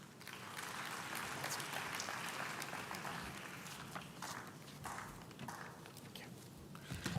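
Sustained crowd applause for graduates of the Faculty of Education at a university campus graduation ceremony, a steady dense patter of many hands clapping throughout with no pauses.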